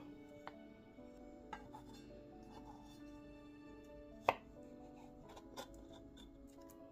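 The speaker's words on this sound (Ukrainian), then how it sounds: "Подрібнемо і грушу." Sparse knife chops on a board as a pear is cut into thin slices, a few sharp cuts spaced a second or so apart with one louder strike, close and quiet.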